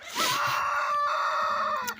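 A rooster crows loudly and close, one drawn-out call, with faint hen clucks underneath, in a small backyard flock.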